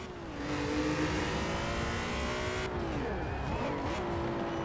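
A Nissan Silvia launches hard in a drag race, its engine revving up through rising harmonics with a gear change midway, loud and close with steady roar.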